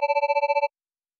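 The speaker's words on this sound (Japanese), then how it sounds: "電話が鳴った。" A telephone rings with a rapid, steady electronic trill of about ten pulses over under a second, then cuts off abruptly into silence, with no voices.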